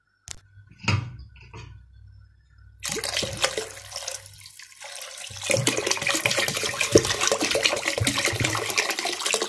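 Water is poured into a pot of restaurant-style Turkish lentil soup. After a brief soft splash, a steady, loud rushing pour fills the second half, nearby and with no voices.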